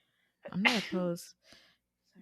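A single sharp human sneeze during a casual podcast conversation, close and sudden with a quick intake and burst, followed by brief quiet speech.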